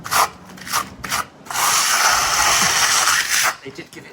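A Regal & Barnes 0.3mm flexi trowel spreads render base coat over old render on a wall, with short scraping strokes followed by one long sustained rasping sweep, close and fairly loud.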